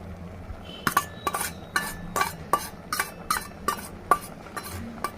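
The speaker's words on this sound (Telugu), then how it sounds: "ఇప్పుడు టమాటా వేసేస్తున్నాము" A metal utensil strikes a pan of ridge gourd and onion curry as tomatoes are added, with about ten sharp, evenly spaced clinks over a faint background hum.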